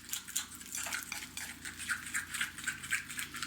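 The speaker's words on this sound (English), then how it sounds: "it's time to add the rest of the frosting to the honey bun cake. And I'm just gonna give it a little quick mix here." Frosting for a honey bun cake being quickly stirred in a dish, with faint, rapid scraping and tapping of a utensil in a steady rhythm, close by and quiet.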